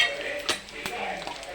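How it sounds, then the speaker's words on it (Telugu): Three garlic cloves frying in a pan, with a soft, steady sizzle broken by a few sharp clinks of a utensil against the pan. "మూడు వెల్లుల్లి రెబ్బలు వేసుకుంటున్నాను. ఇది వేగాలి."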